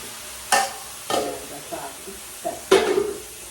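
Saag greens hit a hot pan over high heat in several short bursts of sizzling and stirring, each flaring up loudly then fading.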